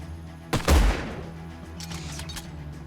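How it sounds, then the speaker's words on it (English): Shotgun blast in the sci-fi strategy game Age of Wonders Planetfall: a single loud, booming discharge with a sharp attack, followed by a rumbling tail and faint rattling echoes. "Let's see what shotguns do, shall we?"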